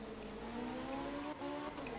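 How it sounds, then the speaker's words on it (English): Group 4 rally car in the video game art of rally, its engine holding a steady, droning tone with rising harmonics and a brief dip, continuous and fairly quiet. "This is my main group 4 car."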